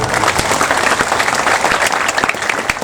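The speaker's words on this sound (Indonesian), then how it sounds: "Tepuk tangan." Full applause from the audience at a religious gathering in Palembang, dense and sustained clapping close by with a few sharper claps standing out.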